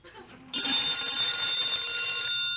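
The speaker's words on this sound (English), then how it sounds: "Answer the phone." An old-style telephone bell rings in a continuous bright trill in a radio comedy setting, starting abruptly after faint background sound and running loud and steady for about two seconds.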